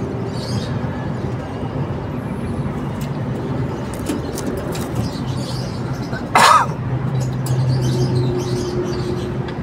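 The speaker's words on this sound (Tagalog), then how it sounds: "inuubo ako eh" A single short cough bursts out midway over a steady, noisy background, with a few faint chirps earlier.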